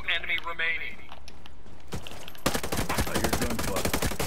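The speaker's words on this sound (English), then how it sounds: "I hear gunfire." A voice speaks briefly, then a sharp shot is followed by rapid bursts of gunfire in the video game Ghost Recon Breakpoint, loud and continuous with a game-like crackle.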